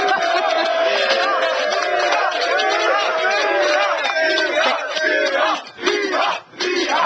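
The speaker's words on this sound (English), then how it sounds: "You hear all this crowd, you know?" A large crowd at a Las Vegas boxing event roars and cheers, loud and continuous, with shouting voices swelling together before dipping briefly near the end.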